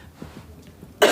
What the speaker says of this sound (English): Just cough for me?